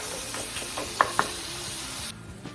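Chopped chicken liver sizzles and fries in a pan for New Orleans style dirty rice, a steady hiss broken by a couple of sharp utensil clacks before the sizzle drops away near the end.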